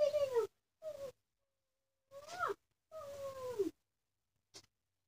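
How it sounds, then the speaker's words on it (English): A house cat meows several times in short, separate calls with pauses of silence between them, close by and fairly clear, ending with a brief faint chirp. "And my cat's next to me."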